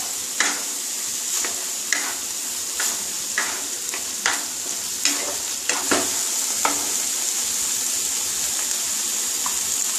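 Ground spices being sautéed in a pan for fish roe fritter curry, with a steady hissing sizzle and regular spoon scrapes against the pan, close and clear.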